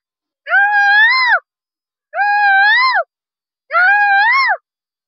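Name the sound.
boy imitating peacock call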